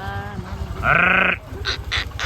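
A sheep gives one loud, wavering bleat close by in a village setting, followed by several short, breathy bursts of noise.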